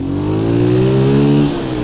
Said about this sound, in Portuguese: Não sei se é porque o motor tá frio, acabei de ligar.